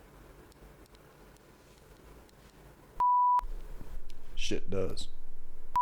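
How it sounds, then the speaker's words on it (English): A pager beeper sounds one clear, steady electronic tone, then a second short tone at the very end. Someone talks between the two beeps. "Sorry, my beeper doesn't work."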